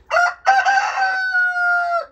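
A rooster crows once, loud and close, a long cock-a-doodle-doo with a sustained, drawn-out final note.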